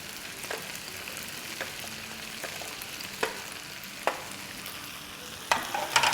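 Chopped onion pieces and two green chilies go into okra frying in a pan for masala bhindi, giving a steady low sizzle with a few soft stirring scrapes and clicks, no voices.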